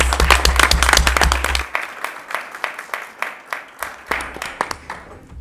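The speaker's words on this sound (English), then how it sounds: "We can give one more round of applause" Applause follows a student choral performance at a school board meeting. Strong, dense clapping at first quickly fades to a few scattered claps, then a small second swell rises near the end.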